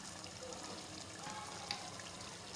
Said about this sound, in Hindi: तो ये हम लोगों ने यखनी का पानी डाल दिया